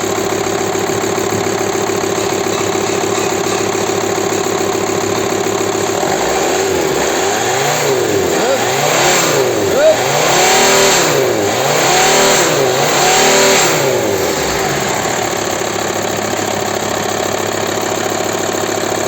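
A Volkswagen Transporter T5 130 PS van engine with an engine fault idles, then revs up in several repeated surges before settling back, loud and close.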